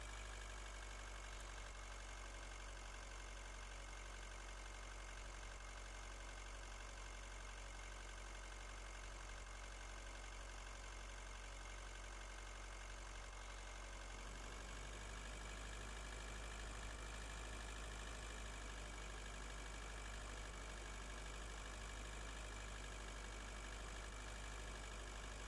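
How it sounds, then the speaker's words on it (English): Spaceship engine in the space survival game Breathedge, a steady droning hum that runs continuously, shifting to a slightly rougher tone about halfway through, with no talking. "Put the engine on, it takes off"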